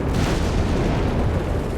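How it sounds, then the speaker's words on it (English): Dense, continuous rumbling explosions and artillery blasts from the World War II strategy game Company of Heroes 3, loud and sustained with no pauses, tank combat destruction blending into one roar. "We got more explosions, more smoke, more destruction."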